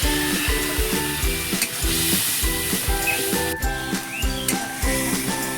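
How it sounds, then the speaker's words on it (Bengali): Spice paste with sugar, salt and a splash of water being stirred and fried in a pan for an aloo paneer dish, giving a steady sizzle with rhythmic scraping strokes throughout, accompanied by a sustained musical backing. "মশলাটা আমি ভালো করে কষিয়ে নেবো।"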